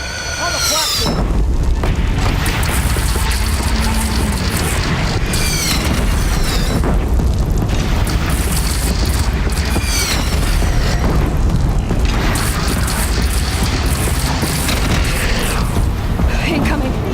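Cannon fire in the Horizon Zero Dawn video game, repeated loud booms and blasts amid continuous battle noise and mechanical clatter, with voices speaking at times.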